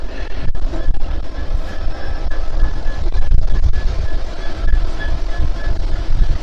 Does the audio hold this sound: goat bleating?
no